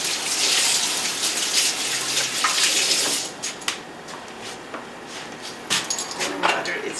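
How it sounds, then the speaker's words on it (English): Tap water gushes steadily from a faucet while fingers sticky with almond butter are rinsed during Pad Thai sauce preparation, running loud and continuous for about three seconds, then cutting to faint, sporadic kitchen sounds. "Rinse off the fingers."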